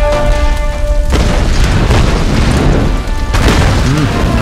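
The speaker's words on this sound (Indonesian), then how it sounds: "Meledak." A loud, booming explosion in Tomb Raider Definitive Edition, a deep blast that rumbles on for a few seconds under the game's music and effects.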